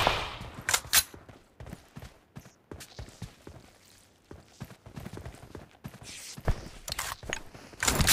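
Bursts of gunfire in the PUBG Mobile battle royale shooter, a string of sharp, irregular shots with loud clusters near the start and end and quieter spaced cracks between.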